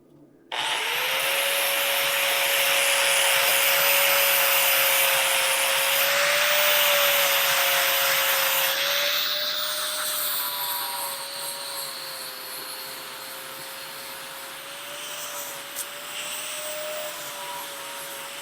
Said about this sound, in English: Grinder sparks! Yes. We love grinder sparks around here.